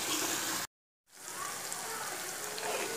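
Spiced masala paste for Nagpur-style tari poha sizzles steadily in a hot pan, a dense crackling hiss that cuts out briefly before resuming evenly.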